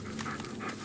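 A dog in the horror video game Blair Witch pants close by in quick, breathy bursts, the rhythmic huffs coming softly but clearly.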